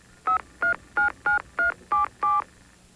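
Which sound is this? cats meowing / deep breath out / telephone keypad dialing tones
telephone keypad dialing tones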